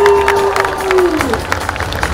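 An audience claps and cheers at a knight tournament show in an amusement park, a scattered, lively crowd noise heard at a distance beneath an announcer's amplified voice.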